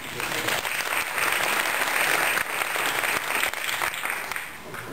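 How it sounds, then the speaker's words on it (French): An audience gives sustained applause at a club awards ceremony, a dense and loud wash of clapping that holds steady and then begins to fade at the end. "on peut encore les applaudir."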